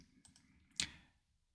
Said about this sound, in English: and then enter on the keyboard to accept that.